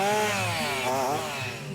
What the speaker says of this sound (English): we need a big chainsaw.